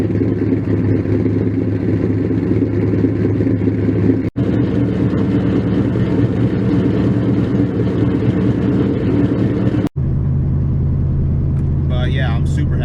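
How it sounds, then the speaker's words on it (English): A 302 stroker V8 in a Ford Mustang idles loud and steady with a deep, lumpy rumble, briefly cutting out twice, while a voice talks over it near the end. "I'm super happy with that idle"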